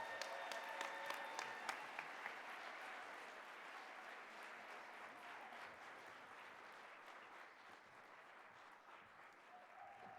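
An audience at a gala applauds its honorees with a sustained, even round of clapping that carries on for about ten seconds, heard at some distance in a large room, with no words from the stage.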